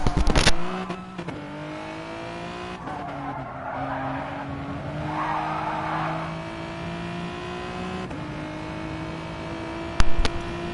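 A rallycross racing car in the Speed RX video game, heard on board through a lap, runs at a steady engine drone that climbs and drops with gear changes, with tire skids and sharp impact bursts near the start and end.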